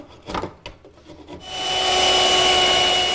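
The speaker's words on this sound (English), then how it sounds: "Here I'm knocking the corners off of the tenons on the leg because the tenons have to fit into round mortises in the rail." Corners being knocked off wooden tenons on a chaise lounge leg: a few sharp, close knocks and scrapes give way to a continuous loud rasping, rubbing tool sound on the wood.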